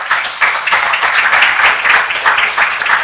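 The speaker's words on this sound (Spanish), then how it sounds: "Me aplauden porque dije que no quiero ser latoso" An audience applauds a speaking artist at an event, with loud, continuous clapping that swells and dips over a few seconds.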